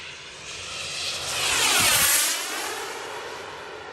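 Freewing Zeus 45NT turbine RC jet making a fast pass, its high whine swelling as it approaches, peaking overhead with a clear pitch drop, then fading away.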